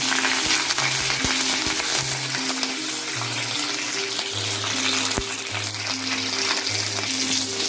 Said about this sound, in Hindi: अब मैं इसमें 4 हरी मिर्च जिसको कि मैंने बीच से काट रखा है,